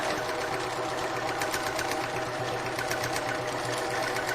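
A Janome 1600P sewing machine mounted on a Grace quilting frame runs at a fast, steady stitching rhythm, loud and close, with no pause and no voices.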